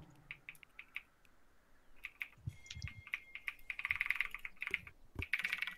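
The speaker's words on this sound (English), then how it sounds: "I'm typing that in chat so I remember" Quick bursts of typing on a computer keyboard, soft close key clicks in irregular runs that speed up and thicken toward the end, with no talking.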